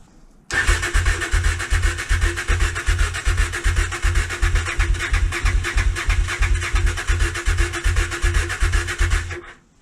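Honda Bros (Hawk GT) motorcycle's electric starter cranking the engine without it catching, a loud close rhythmic churning that pulses steadily for about nine seconds.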